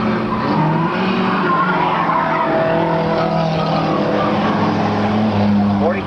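Race cars roaring down the backstretch of a short oval track during a 1998 race, engines droning with shifting pitch and some tire squeal, while an announcer calls the action over a loudspeaker.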